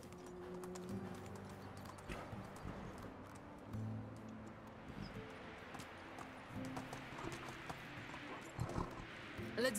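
Horse hooves clip-clop steadily in the medieval game Medieval Dynasty, a rhythmic stream of close, fairly faint hoofbeats with light ambient rustle underneath.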